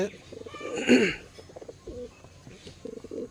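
Soft, low cooing of Punjabi pigeons nearby, repeating in throaty murmurs, blended with a faint voice and some background noise.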